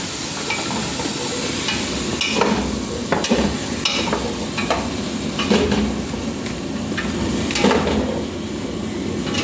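Fish bagoong stirred into a frying pan of eggplant and sweet potato: steady close sizzle with repeated scraping stirs and spoon knocks against the pan, no talk.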